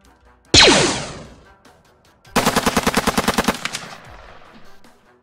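Gunfire effect: a single sharp crack with a ringing tail, then a rapid automatic burst of about a dozen close, loud shots fading into echo.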